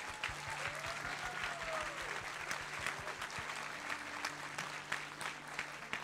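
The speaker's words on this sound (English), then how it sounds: "Let's give them one more round of applause" An audience at an instrumental spring concert applauds the music department teachers, steady sustained clapping from a large room, with a low organ-like tone sounding underneath.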